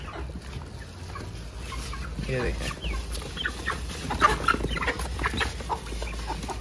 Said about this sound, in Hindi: बाकी मुर्गियां खा रही हैं